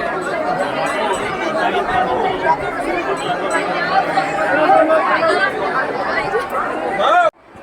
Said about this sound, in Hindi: और ये देखिए कितनी भीड़ है यहाँ।